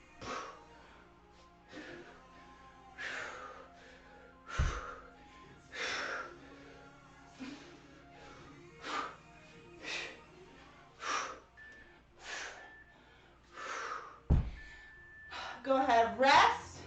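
Heavy, forceful breaths during a heavy kettlebell flow workout, rising in a steady rhythm of sharp gasps and exhales roughly every second or so, close and fairly loud, with a voice also present.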